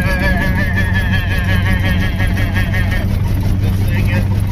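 An old scrapyard-bound car drives along the road with a loud, steady engine drone and a wavering higher whine, while someone talks over it and the pitch shifts about three seconds in.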